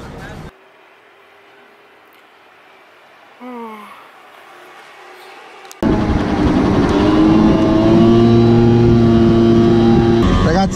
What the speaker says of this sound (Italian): Guardate che traffico qua a Napoli